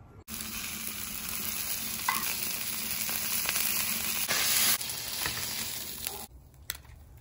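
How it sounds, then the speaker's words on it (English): Fish and asparagus basting in herb butter on a Blackstone griddle, a steady close sizzle of frying running the whole time with a few scraping and stirring touches, quieting near the end. "Cook the fish. Baste the fish with herb butter."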